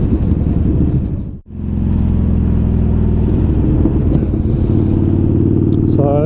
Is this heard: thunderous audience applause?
no